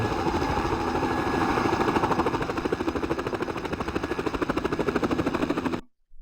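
A helicopter in the video game Spycraft: The Great Game, its rotor thumping in a steady fast chop over a loud engine drone that fills the scene, cutting out abruptly near the end.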